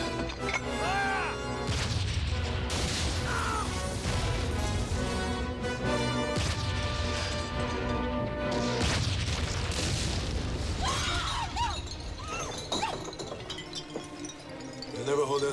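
Artillery fire and explosions in a wartime drama set in Ireland in April 1916: dense, loud booms and crashing bursts roll almost continuously, with shouting voices mixed in.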